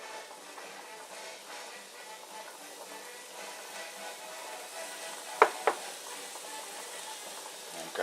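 Peppers fry with liver in a pan, a soft, fairly quiet sizzle running steadily, with two sharp clinks of a utensil against the pan near the middle.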